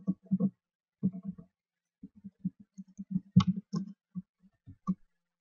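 A computer keyboard clicks in short irregular bursts as a folder name is typed, the keystrokes close and fairly quiet against silence.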